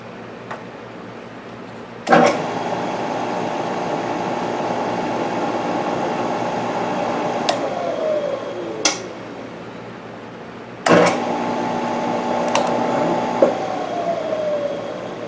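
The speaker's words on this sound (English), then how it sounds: "We're going to power tap this one." A power tool taps threads for 5/16 bolts into drilled holes, running in two steady whining spells that each wind down, with sharp clicks and knocks at the starts and between runs.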